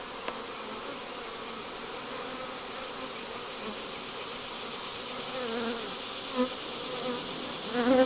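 A fall honeybee swarm fans and buzzes at a swarm trap, a dense, steady hum of many wings that stays loud and continuous throughout with little variation.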